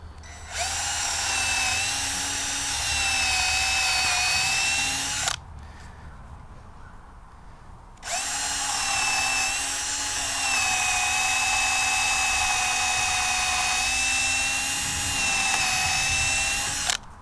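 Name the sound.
drilling pilot holes in wood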